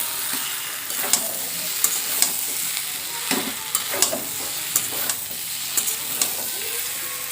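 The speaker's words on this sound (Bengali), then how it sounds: "খুব ভালোভাবে মশলার সঙ্গে এঁচোড় আলু কষানো হচ্ছে" Green jackfruit and potato chunks being stir-fried with spices in a pan: a steady close sizzle with repeated scraping and clacking spatula strokes at an irregular rhythm, no voices.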